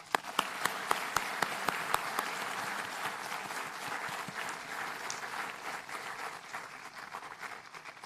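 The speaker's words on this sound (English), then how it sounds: "give a good round of applause to your parents in appreciation of their unwavering support and commitment" Standing auditorium audience at a SLIIT university convocation applauding graduates' parents; a few sharp individual claps open, then sustained, dense applause continues evenly throughout.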